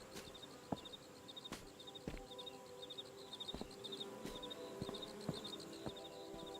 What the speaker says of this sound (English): I feel like I can hear flies buzzing.